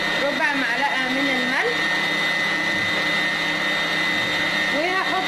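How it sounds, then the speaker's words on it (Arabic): Electric mixer whipping a homemade marshmallow mixture, a steady high motor whine running throughout while someone talks over it. "دلوقتي هو الخليط بتاعنا عمال يتضرب في بعضه اهو زي ما انتوا شايفين"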